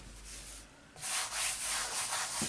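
Soft, uneven rubbing as powder is worked by hand across an acrylic pour painting canvas, quiet at first and then louder, scratchy strokes for the remaining second and a half, with no talking.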